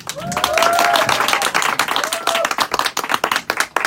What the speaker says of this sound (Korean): 박수 한 번만 주세요